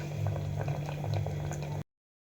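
Tomato soup simmering gently over low gas, a soft continuous bubbling and burbling heard close and fairly quiet before cutting off abruptly.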